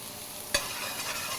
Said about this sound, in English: You can hear that nice sizzle